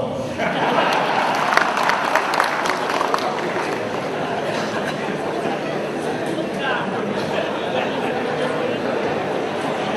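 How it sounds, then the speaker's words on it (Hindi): An audience at a chief minister's speech at an SBI Foundation Day celebration applauds steadily for about ten seconds, a dense continuous clatter of many hands with some crowd chatter mixed in. "उसके बाद भी आप ताली बजा रहे हो"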